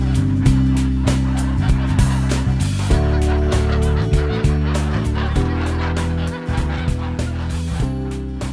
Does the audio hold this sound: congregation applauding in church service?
no